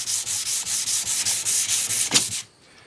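A 1950s Record No. 4 hand plane sole is rubbed on 400-grit abrasive over a flat block in quick, even back-and-forth strokes, about a dozen loud close swishes in steady rhythm, stopping abruptly.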